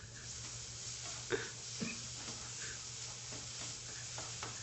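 Dried shrimps fry in a pan outdoors with a soft steady sizzle and a low hum, broken by a few brief scraping stirs, the whole sound quiet and close.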